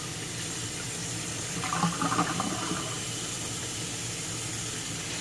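Hot tap water runs into a kitchen sink in a steady, fairly quiet stream, swelling briefly in the middle as the flow splashes before settling back to an even rush.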